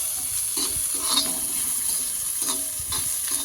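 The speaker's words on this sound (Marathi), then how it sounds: "तेलामध्ये असं भाजत राहायचं आहे म्हणजे हलवत राहायचं आहे" Peas, onion and green chili roast in oil in a pan, a soft continuous sizzle broken by repeated scraping and stirring strokes, with no talk.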